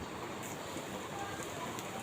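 Potatoes frying in a pan for aloo bhaji, giving a steady, faint crackling sizzle with soft spattering pops throughout.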